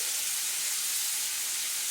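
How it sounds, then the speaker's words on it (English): Steady, loud sizzling hiss of shrimp frying in a hot pan, continuous and unbroken with no voices. "You guys hear that sizzle?"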